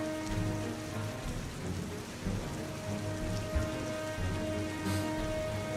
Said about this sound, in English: I'm loving this rain sound